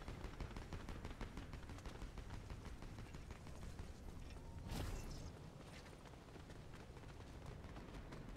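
A flapjack gun fires in Fortnite Chapter 4, a dense run of rapid shots over constant loud game noise, with one sharper burst near the middle.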